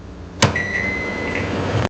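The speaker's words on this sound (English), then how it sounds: "A microwave oven helps heat food quickly." Microwave oven running: a steady loud hum with a thin whining tone that starts abruptly after a click and cuts off sharply at the end.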